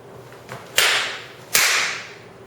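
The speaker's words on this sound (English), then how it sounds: "The stage slap." Two sharp stage-combat slaps, a forehand then a backhand, each a crisp slapping crack about three-quarters of a second apart, close and loud with a brief fading tail, no voices.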